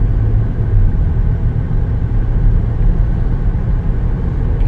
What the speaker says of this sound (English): Let's go ahead and take it for a spin.